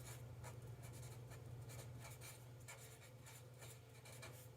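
A Sharpie marker writes on paper, giving soft, close squeaky strokes in short repeated bursts over a low steady hum, with no talking.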